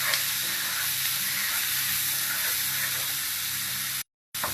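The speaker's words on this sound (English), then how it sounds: "the smell of the cumin as it's toasting on the pan is just absolutely divine." Cumin seeds toasting in a hot pan give a steady, close hiss and light sizzle that runs unbroken for about four seconds, then stops abruptly, with no voices.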